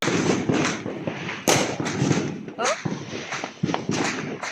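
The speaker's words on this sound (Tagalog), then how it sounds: "Daming fireworks ito." New Year fireworks and firecrackers set off by neighbours, heard as a rapid run of sharp bangs and crackling bursts, loud and close, with a brief exclamation between them.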